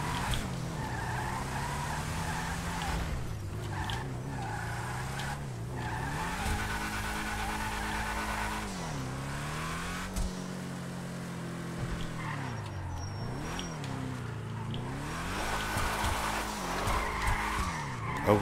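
Car engine revving through rising and falling gears with tire squeal as the car skids out of control in a drag racing video game, steady and loud throughout the clip with no talking.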